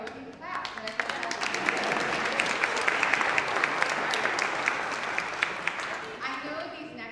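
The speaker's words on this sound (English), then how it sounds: "I know, we can clap" A church congregation applauds during a service, a dense burst of many hands clapping that swells, holds steadily, then fades, with a voice speaking over the start and end.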